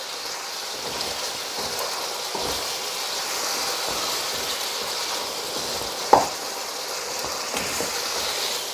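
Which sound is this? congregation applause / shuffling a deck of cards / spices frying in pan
spices frying in pan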